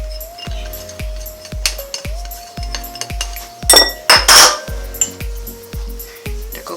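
Whisk or spoon repeatedly clinking against a bowl while chocolate glaze ingredients are mixed, a steady rhythmic series of close, bright taps with a brief louder scraping burst midway.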